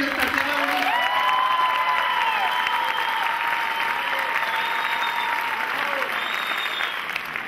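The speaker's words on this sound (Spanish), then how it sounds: "Un aplauso para Colombia y nuestra tierra." Sustained audience applause after a choir performance of Colombian myths and legends in a theatre, a dense steady clapping wash over about seven seconds with faint voices and cheers mixed into the crowd.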